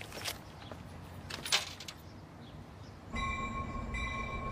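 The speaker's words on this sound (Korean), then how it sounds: "기차 떠나요." A passenger train pulls away from a station, starting with a steady rolling rumble and a few clattering knocks, then louder from about three seconds with sustained high tonal ringing over the heavier running noise.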